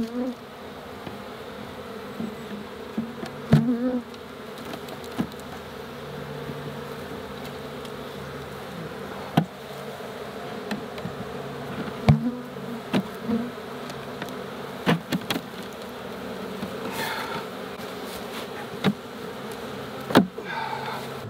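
Honeybees hum around their hives outdoors in a steady, dense buzz lasting the whole stretch, with scattered louder passes as single bees fly close and occasional light clicks and knocks from handling the hive equipment, with no speech.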